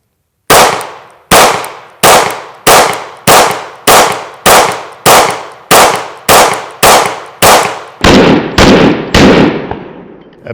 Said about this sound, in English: 9x19, I've got 15 rounds in this magazine. Let's try it on this little target over here. And a little bit of slow fire.